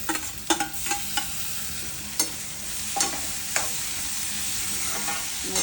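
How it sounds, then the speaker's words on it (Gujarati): Chopped tomatoes dropped into frying onions for a spinach curry, giving a steady sizzle with repeated scraping stirs of a spoon in the pan, close and clear with no talking. "ડુંગળી ચડી જાય એટલે ત્રણ ટામેટાં નાખી દેવાના સમારીને"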